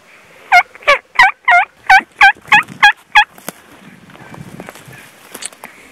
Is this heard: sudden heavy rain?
no